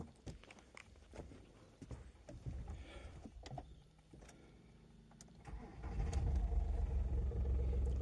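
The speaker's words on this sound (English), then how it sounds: "So let's start the car." Some clicks and rustles, then a Volkswagen Lupo 3L's engine cranks and catches, settling into a loud, steady idle rumble.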